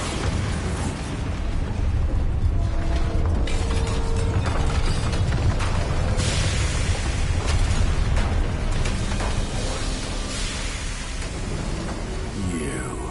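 Spell-blast explosions from the Bombarda curse in Hogwarts Legacy go off amid continuous rumbling battle noise, with heavy low booms and crackling debris layered over a dense, loud ambience.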